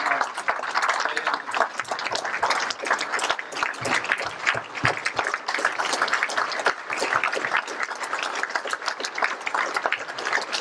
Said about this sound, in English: would you all please join me in a thunderous round of applause to Malkit for bringing us together this evening